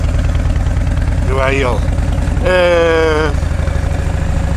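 A motorcycle engine idles steadily and close by throughout, with its low, even rumble running beneath people talking nearby.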